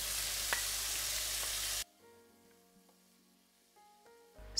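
Onions and frozen peppers hit hot olive oil with a loud, dense sizzle that cuts off abruptly after about two seconds, leaving quiet faint clinks and a low background hum.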